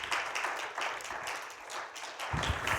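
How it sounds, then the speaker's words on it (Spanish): A church congregation applauds together, a faint, brief burst of clapping with an uneven rhythm that swells and ebbs. "Dele un aplauso al Señor en esta tarde"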